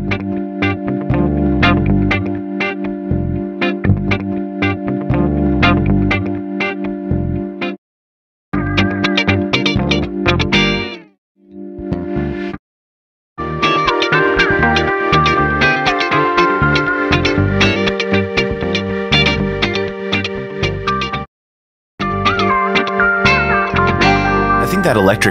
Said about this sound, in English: That electric rhythm guitar is sounding pretty dry